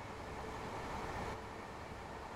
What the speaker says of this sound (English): This train is a BR Class 801 electric multiple unit in LNER livery